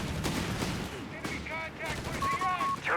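Machine gun bursts rattle amid Company of Heroes 3 battle noise, a 30 caliber mount on a Weasel and other weapons firing in rapid clusters, with voices talking over the dense, steady gunfire.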